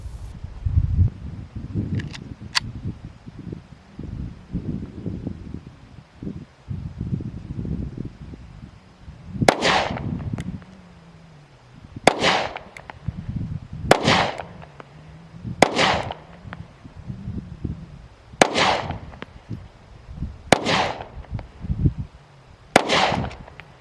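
Pistol shots from a Hellcat 9mm and a Tanfoglio EAA Witness 10mm fired outdoors, about eight loud, sharp cracks spaced a second or two apart after a stretch of quieter rustling.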